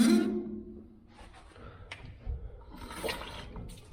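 Water bursts through newly run plumbing to a shower outlet in a tiny home under construction. A loud gushing rush comes first, then eases into fainter splashing and trickling nearby.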